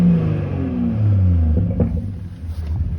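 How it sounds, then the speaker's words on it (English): A BMW G42 M240i with its muffler deleted revs up, its deep engine note rising and falling in a loud, sustained rumble that fades into a quieter idle near the end, with no talking. "How about when you rev it up?"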